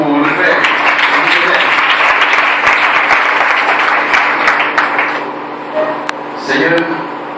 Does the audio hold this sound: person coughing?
no